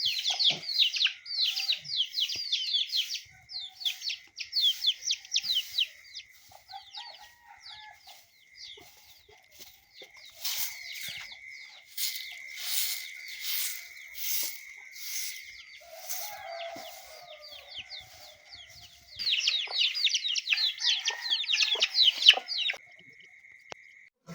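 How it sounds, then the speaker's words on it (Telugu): Chickens cluck and a rooster crows before dawn outside a village house, with bursts of close clucking near the start, a crow in the middle, and a louder run of clucking toward the end. "ఈ కోడి ఇంత పొద్దున్నే లేచిందేంది?"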